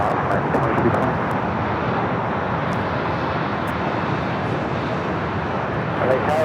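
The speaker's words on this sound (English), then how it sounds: "Citation longitude taking off to Las Vegas." Cessna Citation Longitude business jet taking off at LAX, a steady, loud broadband engine roar that holds throughout, with radio tower chatter running underneath.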